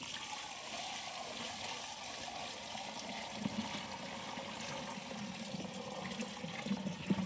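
Twenty litres of water pour steadily into a container for homemade fertilizer, a continuous splashing rush that rises slightly toward the end, close and without talk.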